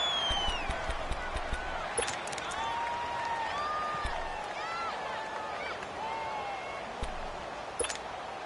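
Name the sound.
video game football crowd noise in the Dome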